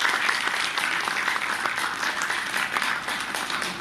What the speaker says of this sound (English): Engineer Harpreet Singh in particular and the team in general deserves a very big round of applause now